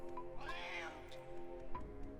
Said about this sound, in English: Angry kitties.